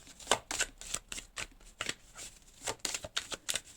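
Tarot cards are shuffled by hand in quick, uneven riffles and slaps, soft and close in a quiet room, with no speech.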